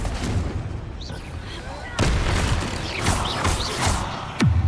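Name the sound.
Confringo spell blast in a video game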